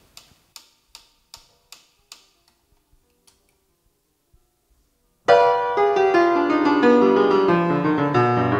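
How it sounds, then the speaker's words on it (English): A metronome ticks alone at a steady, moderately fast beat, the clicks thinning and fading before a solo piano bursts in loudly with a fast, dense Chopin étude passage. "It gives the meter of the speed, hence the name metronome."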